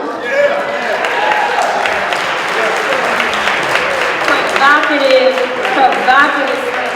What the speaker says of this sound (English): Give Mr. Lawrence Hamm another round of applause